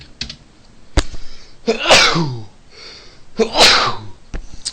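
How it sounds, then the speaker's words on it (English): Two loud sneezes close by, each preceded by a sharp intake of breath, with a few small clicks around them and no speech. "I think I'm gonna sneeze soon"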